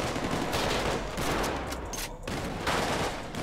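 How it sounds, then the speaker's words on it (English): Gunfire in the video game GTA 5: dense, rapid automatic bursts overlap into a near-continuous volley, loud and sustained with a brief lull partway through. "Where they shooting from? I don't see nobody."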